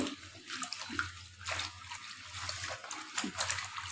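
Gongura leaves being washed by hand in water, with splashing and trickling sounds that continue steadily at close range with no talk.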